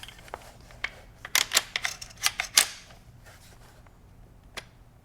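Metallic clicks and clacks as a Benelli M4 Tactical shotgun's barrel extension slides into the receiver against the closed bolt, with a close, sharp burst of several snaps and one later click, no talking.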